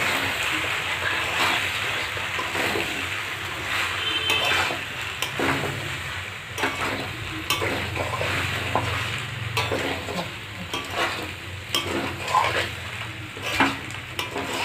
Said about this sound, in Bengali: এবার এর মধ্যে আমি সবজিগুলো